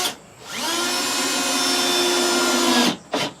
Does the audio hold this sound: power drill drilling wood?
yes